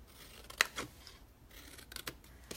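Scissors make a few crisp snips and slicing cuts through material, close by and fairly quiet, irregularly spaced with soft rustling between them.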